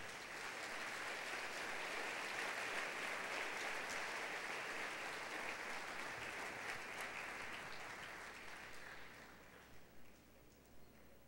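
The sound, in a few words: congregation applause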